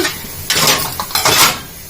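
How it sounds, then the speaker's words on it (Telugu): Metal tiffin boxes clatter and clank in two quick bursts as they are set down and stacked, close by, with a brief pause between. "ఇదిగోండి టిఫిన్ బాక్సులు అయితే ఇక్కడ పెట్టేసుకుంటా"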